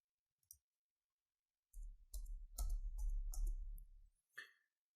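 Five spacebar presses on a computer keyboard while entering spaces into HTML code, heard as a short cluster of close, dull keyboard clicks with a lone tap just before them and another after.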